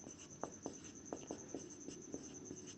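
Writing on a board during a math lesson on triangles, heard as a series of soft, scratchy strokes at an uneven pace, faint and close, with a steady high whine behind them.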